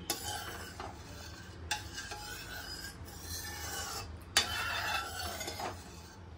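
Rice stirred into warm milk in a cooking pot for kheer, giving a steady scraping, rasping swirl with a few sharper knocks against the pot, close and moderately loud, with no voices.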